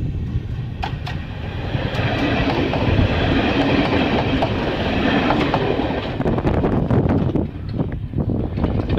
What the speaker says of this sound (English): I think I just filmed the train the wrong way around.